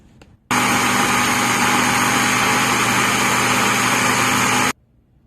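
A food processor grinds hazelnuts into spread, a loud steady motor whir with a constant grinding roar that starts abruptly, runs evenly for about four seconds and then cuts off.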